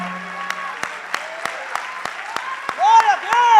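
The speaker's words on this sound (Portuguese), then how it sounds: "Aplauda mais forte, é para o Senhor" Church congregation applauding during a lively sermon: sharp claps repeat at a steady beat, mixed with speech and the shouts of an excited preacher.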